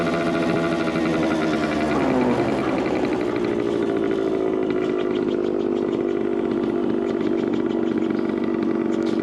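A 1974 Suzuki TC125 two-stroke motorcycle engine runs steadily at close range for the whole stretch, a buzzy, raspy drone that rises slightly in pitch partway through, with no talking.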